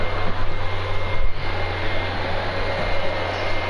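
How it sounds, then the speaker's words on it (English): A PS4 console fan running hard, a loud steady whooshing roar like a jet engine with a constant low hum and high whine, continuous for the whole stretch with no speech. "My PS4 is taking off like a fighter jet. It's so loud."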